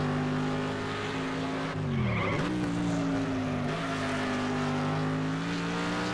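Race cars from Next Car Game roar in a close pack, a steady engine drone with a brief tire skid and pitch dip midway, continuous and loud with no talking.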